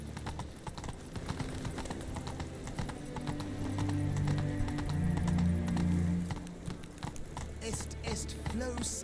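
A horse's hooves clip-clop steadily in The Witcher 3, a continuous rhythmic beat of hoofbeats on the ground under faint game ambience.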